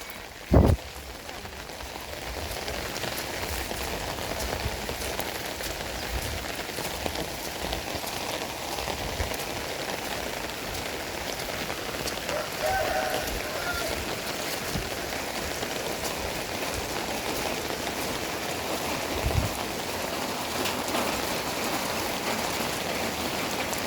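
Steady rain falls on surfaces at a moderate, even loudness throughout, with a couple of brief louder knocks near the start and around the twentieth second.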